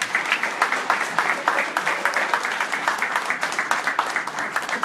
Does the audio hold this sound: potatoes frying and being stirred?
no